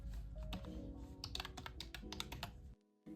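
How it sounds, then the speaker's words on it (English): Fast, steady typing on a Bluetooth keyboard paired with an iPad, a close run of light key clicks with a few louder taps, then a brief drop to silence near the end. "you can easily connect a Bluetooth keyboard like in the video"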